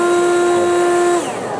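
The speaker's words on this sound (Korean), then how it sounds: "하지만 이번에 새로 나온 이 송풍기는 훨씬 저소음이에요" A new low-noise blower at a 2024 international farm machinery expo runs close and steady with a tonal motor whine and airy rush, then shuts off abruptly near the end and fades into quiet hall ambience.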